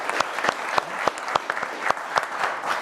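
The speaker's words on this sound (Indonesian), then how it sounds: "Tepuk tangannya boleh dong buat Pak Rahim." Scattered audience applause at a talk show, a moderate patter of sharp individual claps with uneven peaks, fairly close and without speech over it.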